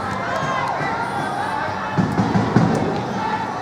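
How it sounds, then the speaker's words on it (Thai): Spectators at a school football match in a stadium, a continuous distant roar of cheering and chatter with a few louder shouts rising near the end. "ในระหว่างนี้เสียงเชียร์ในสนามก็ยังดังมาเรื่อยๆนะ"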